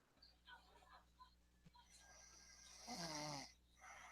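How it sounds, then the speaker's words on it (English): Snoring in a quiet room, with soft rasping breaths and then one louder, longer snore near the end, heard faintly. "Yep, that is definitely snoring."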